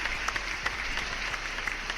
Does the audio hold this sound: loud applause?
yes